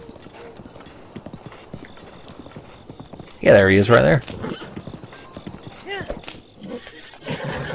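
A horse in a video game gives a loud, close neigh after a stretch of soft clip-clop hoofbeats, followed by further scattered hoof sounds while someone talks over it.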